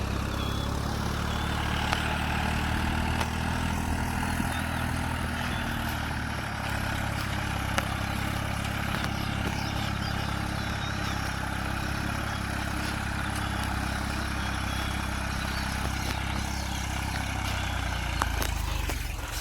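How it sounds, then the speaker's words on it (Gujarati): A tractor engine runs while plowing a farm field. The low, steady rumble is moderately loud and continuous throughout, with faint clanks and rattles over it. "ટ્રેક્ટર છેડા આપણે"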